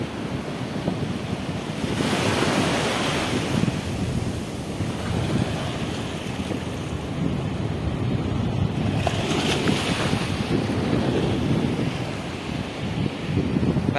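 Sea waves surge and crash continuously, loud and close, with heavy wind rumble buffeting the microphone throughout; no voices.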